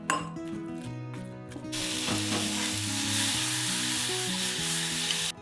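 Asparagus and tomato stir-frying in a pan give a loud, continuous close sizzle, joined by clinks and scrapes of a utensil against the pan, with no talking.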